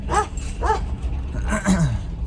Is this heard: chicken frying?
no